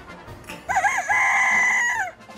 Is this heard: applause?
no